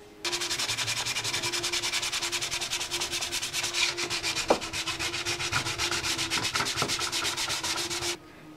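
Bondo body filler on a motorcycle fuel tank during an FZR restoration is sanded by hand in a fast, steady, rhythmic scrubbing rasp, loud and close, running continuously for about eight seconds with no talk.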